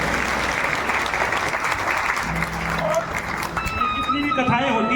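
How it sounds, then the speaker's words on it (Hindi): An audience at a religious discourse gathering claps loudly and steadily, dense applause filling the whole stretch, with voices and a little music emerging near the end. "उनके लिए ताली बजाओ।"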